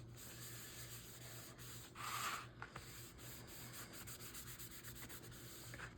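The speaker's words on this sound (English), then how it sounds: "Giving it a little wipe down." A regular wet wipe rubs down the surface of an old item, giving a soft, close, continuous scuffing with one brief louder swipe in the middle, over a low steady background hum.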